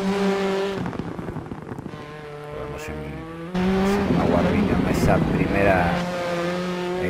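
Hyundai rally car racing a stage of the Australia round in DiRT 4, its engine droning steadily with rising and falling revs throughout, a louder surge midway, while a commentator talks over it.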